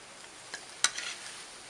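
A pork chop fries in a pan with a soft, steady sizzling hiss, broken by one sharp clink of a utensil against the pan and a few light scrapes, with no talking.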